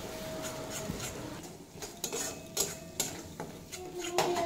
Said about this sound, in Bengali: এবার এড করে দেব পোস্ত আর কাঁচা লঙ্কা বাটা দিয়ে আবারও কিছুক্ষণ কষিয়ে নেব